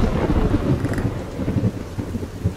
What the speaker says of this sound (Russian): Какой сильный ливень!